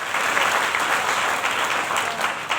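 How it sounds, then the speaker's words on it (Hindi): A seminar audience at a Vestige leadership talk breaks into steady, dense clapping that stays even and sustained for a few seconds, with no voices over it. "एक बार जोरदार ताली आपके लिए"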